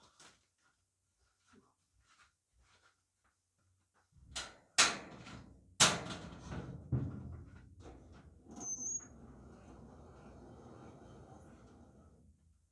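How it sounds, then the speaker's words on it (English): A garage door opens with a few sharp clunks, then a long rattling, squeaky rumble as it rolls up, fairly close with no talking. "So I'm going to open the garage door."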